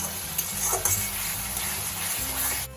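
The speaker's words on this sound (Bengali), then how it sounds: "এবার ভালো করে কষিয়ে নেব যতক্ষণ পর্যন্ত তেল ওপরে না ভেসে উঠবে ততক্ষণ কষিয়ে যেতে হবে" Masala for egg curry sautés in oil in a pan, giving a close, steady hiss and gentle sizzle with soft stirring movements, and no one speaks.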